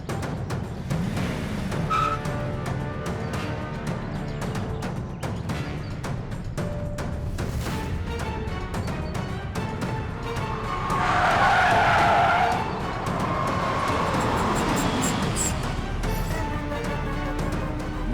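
A car pulls away with tires skidding and squealing over a loud, sustained engine roar, the screech swelling in the middle of the run and then easing as the vehicle accelerates off.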